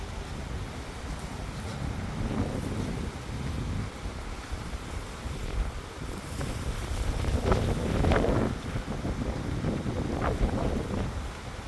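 Strong tropical-storm wind from Hurricane Milton roars and buffets the microphone at West Palm Beach, Florida, in the dark early morning, swelling in loud gusts with no speech.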